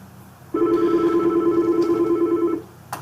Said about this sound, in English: you can hear that the phone starts ringing